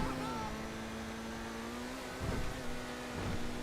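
A steady car engine drone from an Överflöd Tyrant in GTA Online hums throughout, interrupted by a couple of brief rough bursts as it stutters and jumbles.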